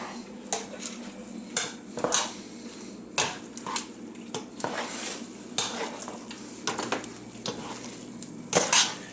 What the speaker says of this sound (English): we're going to throw in the egg and cheese mixture. Mix that all together.